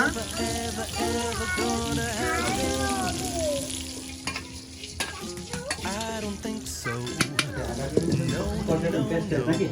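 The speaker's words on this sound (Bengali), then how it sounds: "বেগুন ভাজা, গরম গরম" Eggplant slices frying in a hot pan give a steady, loud, close sizzle that runs throughout, while several people talk over it.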